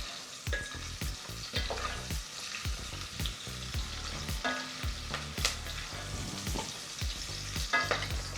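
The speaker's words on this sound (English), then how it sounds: "Now I'm gonna add my lemongrass." Lemongrass frying in a pan with shallots, curry leaves and pandan for a chicken curry, a continuous sizzle broken by repeated rhythmic spoon scrapes and taps as it is stirred, close and steady.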